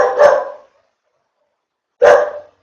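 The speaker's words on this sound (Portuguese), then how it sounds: "tem minha cadela aqui que está latindo bastante" A pet dog, a female, gives two loud close barks about two seconds apart, with silence between them.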